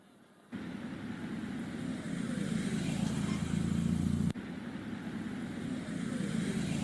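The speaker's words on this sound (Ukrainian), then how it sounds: "Автомобіль." A car engine starts up after a brief quiet moment, then runs with a steady low drone, interrupted once by a short click before continuing.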